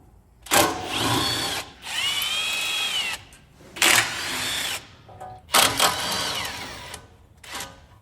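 A power tool, an impact driver or ratchet, removes 10 mm and 12 mm brake line and ABS bolts on a Toyota Tundra, sounding in five loud close whirring bursts separated by short pauses.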